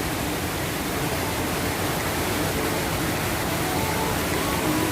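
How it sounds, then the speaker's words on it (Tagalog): Steady, dense broadband rush of heavy rain, loud and continuous with no pauses or other sounds standing out. "Ang lakas ng ulan."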